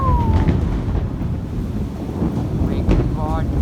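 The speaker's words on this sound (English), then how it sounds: "I caught the thunderstorm." Thunder rumbling in a heavy thunderstorm with rain and wind buffeting the microphone: a deep, continuous low roar filling the whole stretch, with faint chirps and calls scattered over the top.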